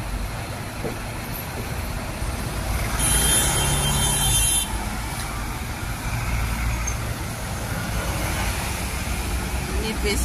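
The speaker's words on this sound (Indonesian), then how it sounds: "Bisnya mau masuk terminal." Hong Kong double-decker bus pulling into a terminal, a steady low diesel rumble with a brief high squeal midway and people talking nearby.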